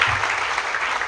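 An audience bursts into dense, steady applause for Haribhai at a Surat gathering honouring a Vallabhbhai statue with garlands. The clapping is continuous and fairly loud throughout, with no voices standing out.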